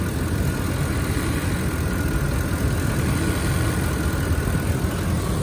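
A 2007 Ford F-150 with a 5.4-liter 3-valve V8 idles steadily, a low, even rumble with a faint mid-range hum, constant and unbroken throughout with no voices.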